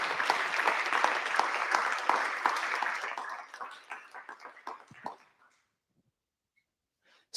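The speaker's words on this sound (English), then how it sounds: "I would like to call for another round of applause for all the winners and for everyone's hard work." Audience applause for the winners of a university computer graphics rendering competition; steady clapping that thins into a few scattered claps and dies away to near silence after about five seconds.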